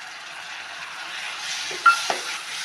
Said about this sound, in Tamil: தக்காளி நல்லா மசிற அளவுக்கு நல்லா வதக்கிக்கணும்